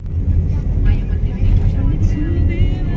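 Road traffic heard from inside a vehicle stuck in a jam on Kennon Road near Baguio, a steady low engine and road rumble with people talking over it.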